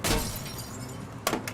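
A car window shattering in the video game Mafia 3 Definitive Edition, a loud sharp crash of breaking glass at the start and another glassy burst near the end, with no talking.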